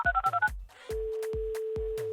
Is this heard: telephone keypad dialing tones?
yes